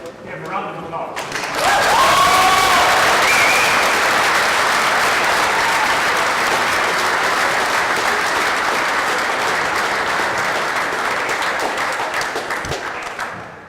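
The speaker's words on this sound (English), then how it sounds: "before our elite players gave a round of applause." Audience applause for handball players after an All-Ireland 40x20 men's doubles final, rising sharply after a brief quiet start and holding as loud, dense, sustained clapping for about twelve seconds before easing off.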